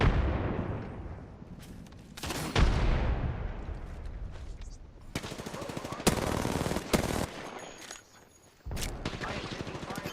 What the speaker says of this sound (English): The enemies are shooting at me. I am taking fire.